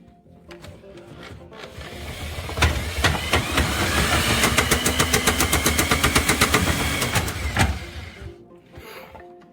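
A drain cleaning machine runs in a blocked kitchen drain, a loud motor whir with a fast, rhythmic knocking that builds in the middle and then winds down near the end; close by, with no speech.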